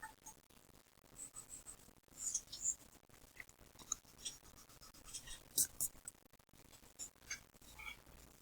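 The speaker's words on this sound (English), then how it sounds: "So I'm going to start out by sketching that line." Pencil sketching curved lines on paper, with soft scratchy strokes in an irregular rhythm, close and fairly quiet throughout, with occasional sharper scrapes.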